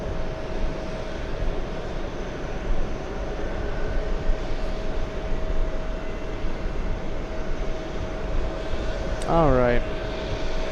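A Kalitta freighter aircraft at JFK produces a continuous engine roar with a steady tonal hum, while someone speaks briefly near the end over the noise.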